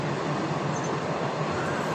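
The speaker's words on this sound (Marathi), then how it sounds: "हा खूप रेअर आवाज आहे एखाद्या ट्रेनचा जाण्याचा" A passing train, likely a freight train, rumbles past in a quiet setting, a constant broadband roar that holds steady and near for the whole stretch, with no voices.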